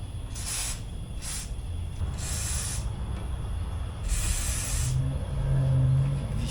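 Penetrating oil sprayed in several short and longer hissing bursts onto mud-packed fender bolts of a 1970 Suzuki TC-120 Trail Cat motorcycle, close and steady under a low background rumble.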